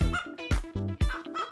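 A turkey gobbling in a sound effect, with a rapid series of loud, close, warbling gobbles and clucks in quick uneven bursts, alone without any talk.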